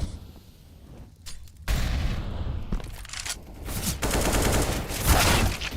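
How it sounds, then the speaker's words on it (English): Grenade blast and gunfire during a Counter-Strike match, with scattered shots that build into a loud, dense burst of rapid fire and booms from about the two-second mark, close and unbroken by talk. "Nade will be dropped on top of them and does a fairly decent chunk of damage."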